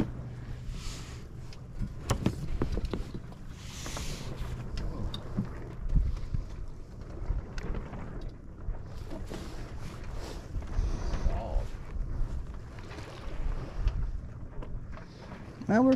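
A sailboat running with the wind between Kellys Island and Pelee Island, with steady wind buffeting the microphone and water rushing along the hull, a continuous close rumble broken by a few scattered knocks.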